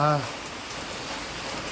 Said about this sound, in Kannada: ಮಳೆ ಇನ್ನೂ ಬರ್ತಾನೆ ಇದೆಯಲ್ಲಪ್ಪ.